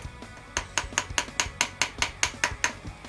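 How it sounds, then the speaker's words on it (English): Steady run of about thirteen sharp hammer taps, evenly spaced, driving a plastic timing chain guide into place on a BMW M62 V8 engine with a screwdriver and hammer, close and alone. "You may need to use a screwdriver and a hammer just to hammer it back in place."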